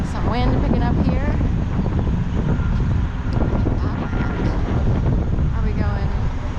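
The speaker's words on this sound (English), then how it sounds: "some wind picking up here." Strong wind gusting across a city street in New York, a loud, steady broadband rush buffeting the microphone throughout, with a person talking intermittently over it.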